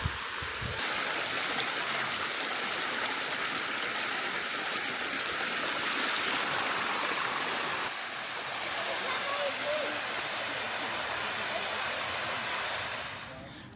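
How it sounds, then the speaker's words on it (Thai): Bua Tong Sticky Waterfall in Chiang Mai flows as a steady broadband rush of falling water, close and constant, with a faint voice briefly audible beneath it before the sound fades slightly at the end. "เรายืนอยู่ที่อุทยานแห่งชาติน้ำตก บัวตองน้ำพุเจ็ดสี"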